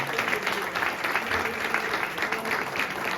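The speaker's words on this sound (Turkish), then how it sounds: "Alkışlarla." An audience applauds as the first-place team is called to the stage at an open innovation camp award ceremony, a steady, dense clapping that stays loud and even for the whole stretch.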